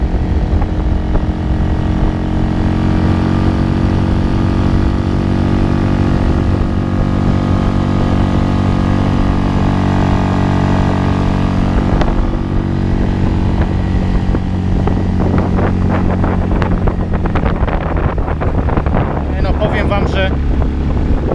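Outboard boat engine on the Vistula held at nearly full throttle around 4,800–4,900 rpm after fitting a new carburettor, a steady loud drone with wind buffeting, rising into a rougher, more broken roar toward the end.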